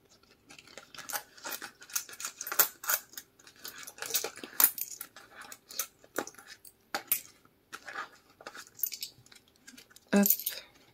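One-euro coins are handled and counted, producing scattered close metallic clinks and jingles with quiet gaps between them.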